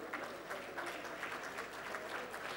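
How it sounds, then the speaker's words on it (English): Large conference crowd of delegates applauding at a tech keynote session, a continuous, fairly distant wash of clapping from many hands. "Ladies and gentlemen, a huge round of applause for all of you"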